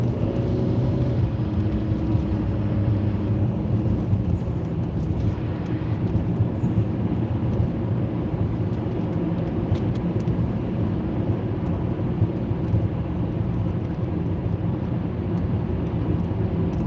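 A car accelerates while merging into the middle lane of a road, its steady engine and road rumble holding at a constant, fairly loud level throughout with no voices.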